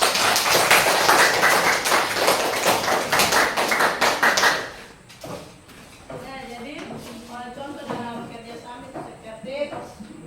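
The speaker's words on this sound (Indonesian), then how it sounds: "Oke, kita berikan aplaus." A classroom breaks into loud, dense applause from many students clapping together for about four seconds, then the clapping stops and a teacher's voice carries on speaking over a quieter room.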